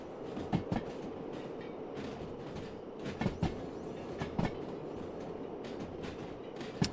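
A train rolls along rails in the Derail Valley railway game, heading toward a hill: a steady loud rumble with irregular clickety-clack wheel knocks, heard from near the back of the train.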